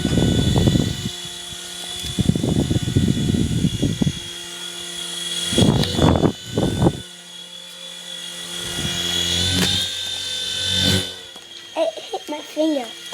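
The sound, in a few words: Apache helicopter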